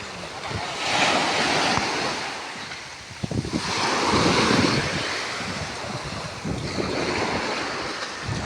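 Large ocean waves surge and crash in repeated swells along the shore, with heavy wind buffeting the microphone, loud and close with no talking.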